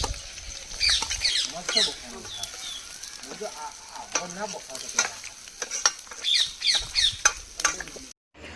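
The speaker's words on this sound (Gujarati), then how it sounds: "પછી વંગારવા માટે તેલ રેડ્યું. પછી ડુંગળી વંગારી નાખી." Onions sizzle and crackle in hot oil for an egg curry, with intermittent stirring scrapes and bursts of frying noise while voices talk over the cooking.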